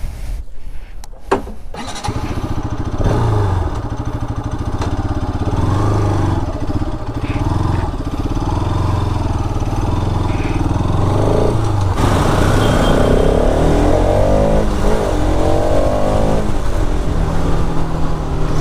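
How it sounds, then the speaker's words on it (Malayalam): A Bajaj RS 200 BS6 motorcycle is ridden, and its exhaust note runs loud and continuous. The engine pitch rises and falls as the throttle is worked, and it changes character partway through. "കൈ റിങ് ചെയ്ത് പിടിക്കുമ്പോൾ എക്സോസ്റ്റിൻ്റെ ആ ടോൺ മാറുന്ന ഒരു പ്രത്യേക ഒരു ഫീൽ തന്നെയാണ്."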